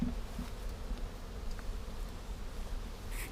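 Honeybees buzzing around a hive super while honey is pulled outdoors, a steady dense drone of many bees close by, constant in level with no voices.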